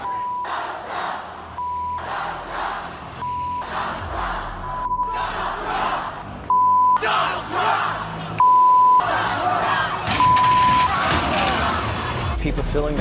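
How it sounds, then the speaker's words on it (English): A street protest against President-elect Donald Trump in an American city, with a dense roaring crowd shouting and chanting in waves, a repeating beep tone cutting in and out, and a voice speaking over the din. "People filling the streets in America's cities, protesting President-elect Donald Trump"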